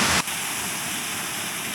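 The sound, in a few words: water flowing at an old dam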